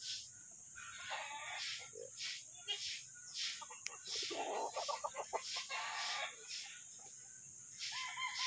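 Spangle stag roosters on a farm cluck repeatedly in short bursts, with a rapid pulsing of calls in the middle, under a constant high insect-like buzz and faint talk nearby.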